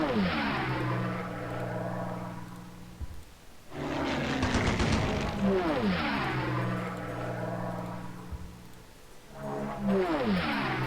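A Blenheim bomber in Civilization III gives a loud, steady droning engine roar that swells and drops in two or three long passes, with no talk over it.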